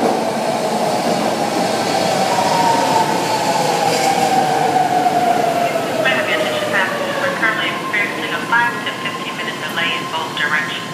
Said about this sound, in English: Train arriving platform 1 is out of service